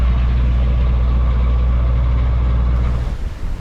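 A sailboat's engine runs at full throttle, a loud, steady low-frequency drone that holds level, then drops and fades as it is cut near the end.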